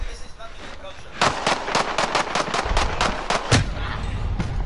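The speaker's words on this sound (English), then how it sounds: "Yeah, somebody's shooting." Rapid bursts of gunfire from an online multiplayer shooter played on PS4 crack in a dense, loud run over most of the clip, with a heavier boom near the end and a player talking over it.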